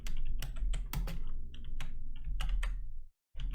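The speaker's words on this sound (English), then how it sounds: "I'm typing something." Someone types quickly on a computer keyboard, with a close run of clattering key clicks in uneven bursts and a brief pause near the end.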